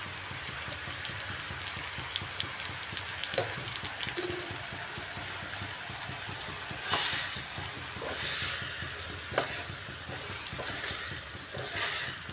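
Cucumber frying in a pan with turmeric, cumin powder, green chilli and salt, a steady close sizzle with soft stirring scrapes and a few clicks, no talking.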